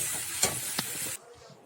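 Maggi noodles with potato and a fried egg are stirred in a pan, a short close hiss of frying with two quick scraping strokes before the sizzle drops away.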